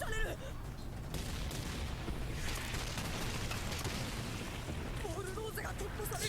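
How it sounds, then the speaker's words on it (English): Cannon fire booms and rumbles continuously in a dense, noisy battle din, with no clear pauses. "See, the cannons were doing damage."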